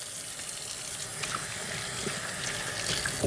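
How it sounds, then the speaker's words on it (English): Tap water runs steadily into a sink while hands are washed with soap after handling raw meat, a continuous close splashing hiss with no talk. "Anytime you handle raw meat, you need to wash your hands with soap and hot water"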